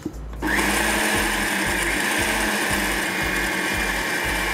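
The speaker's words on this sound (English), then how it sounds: "So give that about 30 seconds to a minute in the blender." A blender whirs up a mint marinade with olive oil, starting abruptly and holding a loud, steady motor whine with a rhythmic chopping pulse underneath for several seconds.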